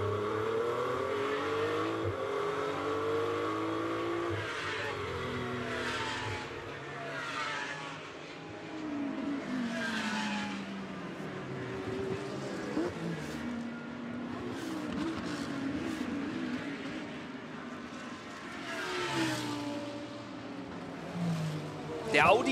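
GT race cars at Paddock Hill, Brands Hatch, in a GT World Challenge Europe race, engines roaring and shifting down as they brake into turn one, a continuous mid-distance drone under steady commentary.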